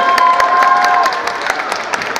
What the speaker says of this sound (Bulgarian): аплодисмент за него